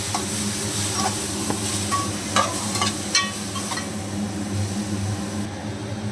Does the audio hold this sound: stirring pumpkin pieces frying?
yes